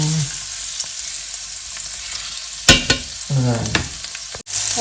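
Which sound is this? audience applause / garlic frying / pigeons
garlic frying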